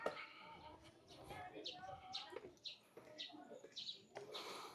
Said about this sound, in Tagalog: Daming ibon eh.